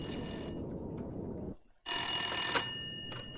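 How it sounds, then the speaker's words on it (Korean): Old-style telephone bell ringing in The Long Dark video game, a loud electronic double ring that cuts off briefly and then rings again, alone with no talk. "전화를 받으세요"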